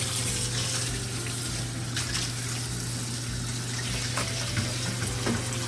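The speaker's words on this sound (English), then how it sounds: "What I like to do is rinse it real good one time." Water runs steadily from a kitchen tap as trout are rinsed, a close, full, continuous splashing hiss with faint intermittent knocks against the sink and no talking.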